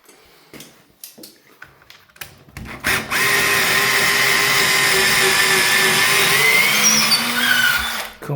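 A worn power drill whirs steadily while removing a tap, after several short clicks and knocks, then runs continuously for about five seconds before stopping.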